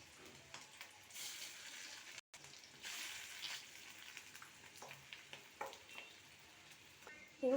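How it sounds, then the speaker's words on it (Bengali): Fish roe fritters sizzle and crackle quietly in a hot pan, with occasional scraping stirs and a brief voice at the very end. "ভেজে নেব এইভাবে পুরো ডিমটাকে ভেজে নেব এখন"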